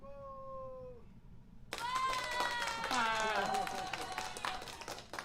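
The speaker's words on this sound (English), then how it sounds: "Hold on, I can do applause if I just go over here" A canned applause sound effect, played by a radio host on air, bursts in suddenly after a short tonal tail. A loud, dense crowd of clapping and cheering follows under a few voices.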